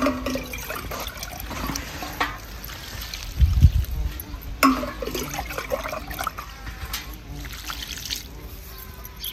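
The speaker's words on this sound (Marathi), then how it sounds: "ही भाजी मी धुवून घेते 2 पाण्याने" Wild leafy greens are swished and dunked by hand in a deep bowl of water, with irregular close splashes and trickles and one louder slosh midway.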